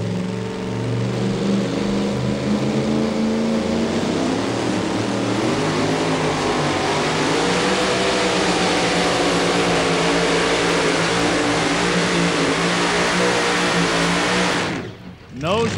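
VP Racing Fuels Bad Company 41 Willys 2WD truck on a pulling run at a tractor-pulling event, engine screaming loud and sustained for the full run before cutting off abruptly near the end.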